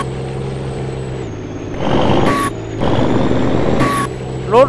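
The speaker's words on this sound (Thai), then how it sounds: "รถหนักจัดเลยว่ะท่านผู้ชมเบรกไม่ค่อยอยู่เลยอ่ะ" A heavy truck on a farm with CAT 336 and 320 excavators, engine rumbling with two sharp air brake hisses and a short squeal at the end, loud and close, with no talk.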